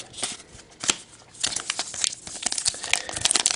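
Crinkling and tearing of a 2012-13 O-Pee-Chee hockey card pack wrapper from a retail blaster box, a close, busy run of crackly plastic rustles that builds toward the end, with no talk.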